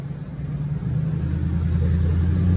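A car rumbles past, its low engine drone swelling steadily louder as it nears, heard on its own without speech.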